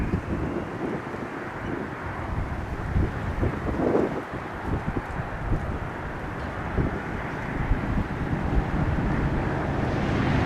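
A Boeing 737-400 airliner at Buffalo Niagara airport makes a steady, broad jet rumble, mixed with heavy wind buffeting the microphone and swelling slightly toward the end.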